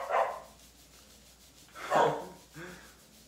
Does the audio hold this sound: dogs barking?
yes